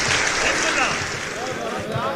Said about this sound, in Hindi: जरा सा तालियों की गूंज बढ़ाइए।